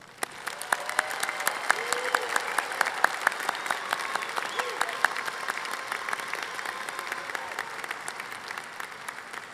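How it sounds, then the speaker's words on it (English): A large crowd at a university spring convocation ceremony applauds the graduates, a dense, steady roar of clapping that fills the whole stretch, with sharp individual claps standing out and faint voices mixed in. "please join me one more time in a round of applause for our graduates"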